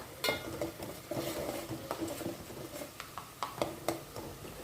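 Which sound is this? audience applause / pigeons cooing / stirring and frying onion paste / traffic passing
stirring and frying onion paste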